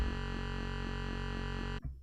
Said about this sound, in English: If I change that to like a triangle wave, it sounds like this.